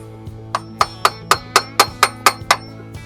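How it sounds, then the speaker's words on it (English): A hammer drives a screwdriver into the old oil filter of a Jeep Wrangler YJ: about nine sharp metallic taps in a quick, even rhythm, close and clear with no talk. "I'm going to punch a hole in the old oil filter so it can drain out before I remove it"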